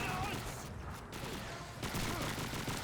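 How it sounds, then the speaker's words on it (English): A PPSh-41 submachine gun fires in Call of Duty 2 in rapid, continuous automatic bursts, loud and dense, with a brief gap in the middle. "So you're seeing the PPSH-41 firing"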